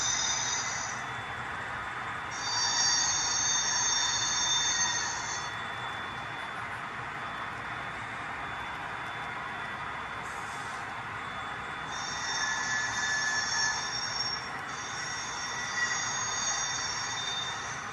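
High-pitched metallic squealing from model train wheels on curved track, produced by an Iowa Scale Engineering Flange Squealer, coming and going in long stretches over a steady rolling rumble.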